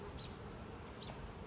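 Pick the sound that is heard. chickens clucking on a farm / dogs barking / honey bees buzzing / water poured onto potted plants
honey bees buzzing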